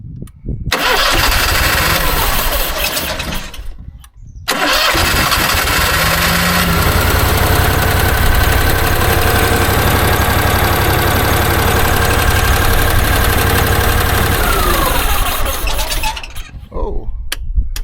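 An Onan 5500 RV generator engine cranks, stops briefly, then catches and runs steadily at a loud, close, even drone for over ten seconds before dying away near the end.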